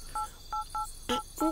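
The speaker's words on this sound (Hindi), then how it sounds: "अरे रुकिए सर, फोन लगा तो रहा हूँ" A telephone number is punched in, five short evenly spaced keypad tones, each a clear dual-tone beep, close and alone with no talk.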